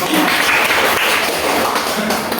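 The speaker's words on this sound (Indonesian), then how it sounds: "Kita kasih aplaus untuk masing-masing" A room of people in a classroom or training session applauding, with dense, steady clapping that stays loud and continuous throughout.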